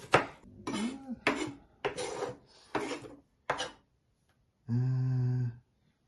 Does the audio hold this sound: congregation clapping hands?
no